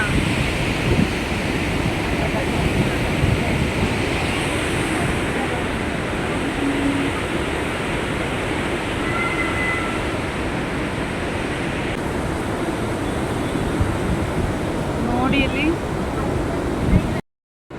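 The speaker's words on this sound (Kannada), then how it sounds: "ನೀರು ಬೀಳ್ತಿರೋ ರಭಸಕ್ಕೆ ಅದು ನೀರೆಲ್ಲ ನಮಗೆ ಸಿಡಿತಾ ಇದೆ" A continuous heavy roar of falling water at Gaganachukki-Barachukki Falls in Karnataka, loud and close, with spray and gusty wind buffeting the microphone throughout.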